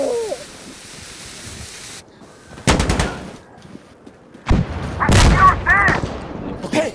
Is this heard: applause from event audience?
no